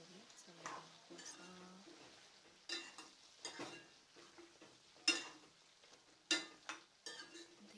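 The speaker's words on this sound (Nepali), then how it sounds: "मसला लगाइसकेपछि मजाले फर्काइ यसरी चलाइदिनुपर्छ।" Spiced pork fries in a pan while being turned and stirred, with scattered clanks and scrapes of the utensil against the pan over a low sizzle, close and intermittent, with a voice speaking between the strokes.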